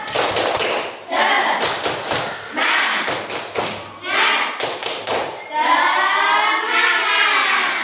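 A sixth-grade class performs a clapping chant, with sharp group claps in rhythmic bursts between chanted words. The children's voices rise to a long, sustained shout at the end.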